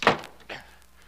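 A door closing in an old-time radio drama from 1949, a single solid thunk at the start followed by a softer second knock, fairly close and isolated.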